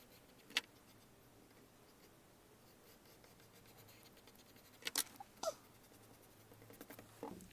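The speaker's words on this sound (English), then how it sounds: "Okay, let's draw with a pencil." Pencil strokes scratch across paper as a black paper card is drawn on. The scratching is faint and close, with a few soft scrapes and then a cluster of quick scribbling marks near the end.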